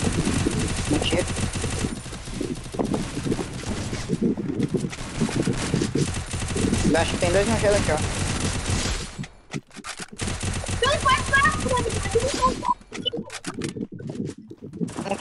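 Rapid bursts of automatic gunfire crackle repeatedly from the mobile game Free Fire, with someone talking casually over the shooting and brief gaps of silence.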